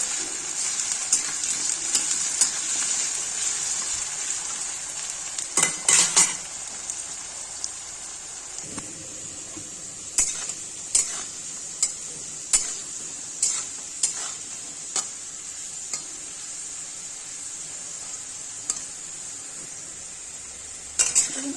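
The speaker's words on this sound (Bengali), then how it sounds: "সুন্দর করে লাল লাল করে ভেজে নিতে হবে।" Potatoes fry in hot oil in a pan for a Bengali potato-cauliflower curry, a steady bright sizzle running throughout with repeated scraping stirs, a cluster midway and regular strokes toward the end, close and without talk.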